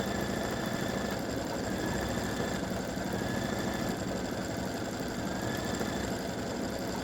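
A quilting machine hums and whirs steadily while stitching an edge-to-edge camellia design, a faint, even mechanical drone with no pauses.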